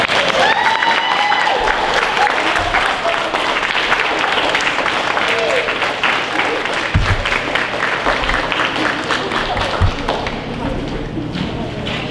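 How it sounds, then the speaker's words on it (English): Loud, sustained applause at a fifth grade graduation celebration, with cheers and voices mixed into a dense wash of clapping that carries on throughout, occasional thumps underneath. "Give yourselves a round of applause."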